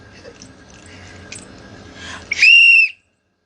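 A person whistles one short, sharp, steady-pitched note near the end, rising out of quiet background rustle and then stopping abruptly into silence.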